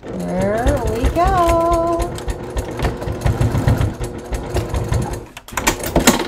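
A sewing machine stitches a leather crossbody bucket bag in a steady fast mechanical whir, loud and close, pausing briefly near the end before restarting.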